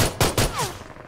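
Gunfire from an M249 machine gun in PUBG Mobile, a few sharp loud shots in quick succession followed by a short whistling tail, close and punchy with nothing else over it.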